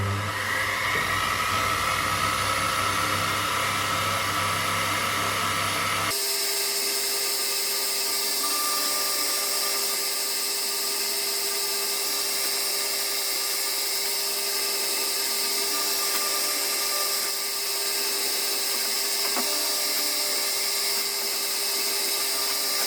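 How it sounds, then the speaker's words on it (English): A milling machine cuts a section through a metal knife clamp with a steady, loud, broadband whine and hiss that runs continuously. The tone shifts abruptly early on, then holds even to the end. "I am going to mill out a little section here all the way through"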